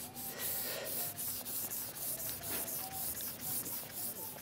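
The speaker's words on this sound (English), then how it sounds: "I'm just polishing out the finer scratches now, ready for the final buff with the sander." A sander buffs fine scratches out of a composite worktop, a steady close whirring rub with a hissy texture that runs without a break for the whole stretch.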